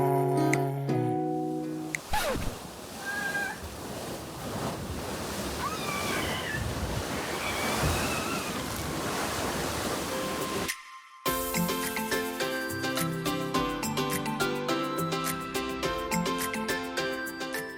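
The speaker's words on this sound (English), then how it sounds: "Take a look, the water is bursting out into the air." Geothermal water bursting into the air in New Zealand makes a steady, broad rushing roar for several seconds, framed by background music before and after.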